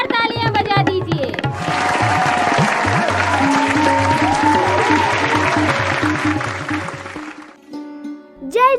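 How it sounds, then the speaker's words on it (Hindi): Audience applause for the next contestant at a devotional drama event, dense clapping sustained for several seconds over loud rhythmic music, tapering off toward the end. "जोरदार तालियां बजा दीजिए।"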